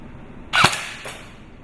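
A Black Ops Cobra gun fires one sharp shot on semi-auto, followed by a fainter second pop about half a second later, close and alone in a quiet room.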